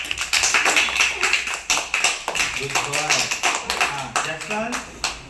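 Children clapping in a classroom, a series of brisk claps mixed with a teacher's voice speaking over them.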